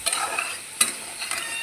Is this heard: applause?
no